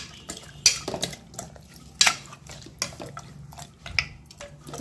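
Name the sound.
stirring meat mixture in pot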